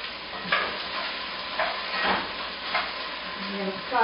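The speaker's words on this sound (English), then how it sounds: "I'm going to saute that around a little bit" Onions and asparagus sautéing in a pan, a continuous close sizzle with intermittent scraping strokes of a utensil as the vegetables are stirred around.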